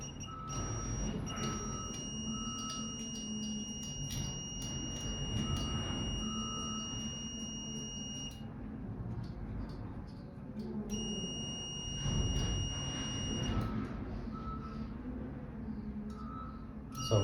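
A steady high-pitched multimeter continuity beep sounds for several seconds, stops, then sounds again, faint beneath a low background rumble, while testing a pressure switch on a dry pipe sprinkler valve.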